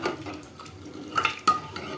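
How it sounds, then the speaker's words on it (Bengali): A ladle stirs boiled lentils in a pot with soft, irregular scraping and a couple of sharper metallic clinks near the end, fairly quiet and close, with no voices. "আমি একটু হাতায় করে নেড়ে নিচ্ছি"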